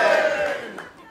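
A theatre audience at a live comedy podcast recording cheers and shouts together, a loud burst of crowd voices that swells at first and then tapers off over about a second.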